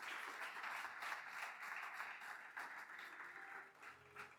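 Church congregation clapping during a worship service, a soft, distant wash of many hands applauding steadily in a reverberant room, continuous and even with a faint murmur near the end.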